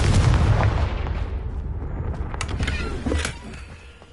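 A Confringo explosive spell fires in the Hogwarts Legacy video game, a loud blasting burst at the start that rumbles down, with sharper crackling hits near the end and no speech.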